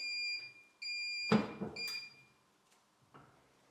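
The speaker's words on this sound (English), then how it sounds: "Once the timer goes off, we can open our heat press." A heat press timer beeps three times in steady high-pitched electronic tones. A heavy thud follows in the middle, and a faint clunk comes near the end, alone and fairly close.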